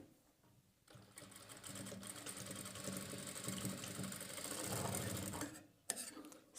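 A sewing machine stitches the edging and drawstring of a dori cap, its needle running in a fast, steady mechanical rattle for several seconds after a brief quiet start, then stopping abruptly near the end.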